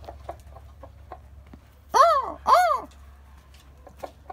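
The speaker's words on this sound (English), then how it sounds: "Got a big rooster right there." Two loud, close clucking calls from chickens near a big rooster in a rural yard, separated by a short gap, with soft scattered clucks and quiet talk around them.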